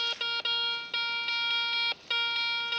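An Ace 150 metal detector signalling on a buried target near an old mill, giving a loud, close, steady electronic tone that cuts out briefly several times and resumes, with no talking.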